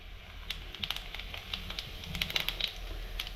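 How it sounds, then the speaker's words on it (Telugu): Cumin seeds sizzling in hot oil in a pan for a broad bean tomato curry: soft, scattered crackles and pops over a low hiss, close and quiet. "నూనె కాగిందమ్మా, జీలకర్ర వేసుకుందాం."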